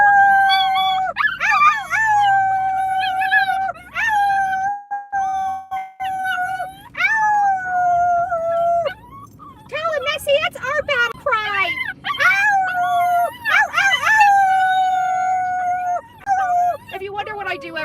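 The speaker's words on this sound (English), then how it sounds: "We hoot and howl when we get close to our destination." A dog howls repeatedly inside a car, long rising and falling howls broken by short yips and whimpers, loud and close, with a person howling along beside it.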